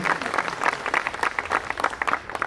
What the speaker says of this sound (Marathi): सन्मान्य पाहुण्यांचं पुन्हा एकदा जोरदार टाळ्या वाजवून स्वागत करू